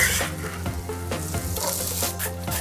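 Celery and other vegetables sautéing in olive oil in a pan, a close steady sizzle with stirring scrapes through it, no voices.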